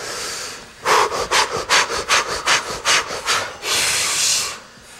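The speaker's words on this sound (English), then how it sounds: "The fire breath," Rapid, forceful panting breaths of a fire-breath breathing exercise, about ten sharp rhythmic exhalations after a longer inhale, close and loud, ending in a sustained long breath with no talking.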